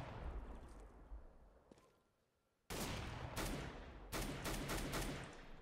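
Rapid rifle gunfire in the video game CS:GO, loud bursts of repeated shots in two sustained volleys separated by a brief lull, with no talking.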